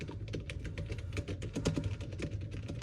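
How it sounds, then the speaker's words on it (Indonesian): Steady typing on the MILS Floating Magic Keyboard Case for iPad, a quick run of soft, muted key presses with a dampened, laptop-like feel, close and continuous with no voices. "Kita masih bisa ngetik-ngetik ya, ini cukup normal rasa ngetiknya ya, kayak keyboard laptop biasa aja"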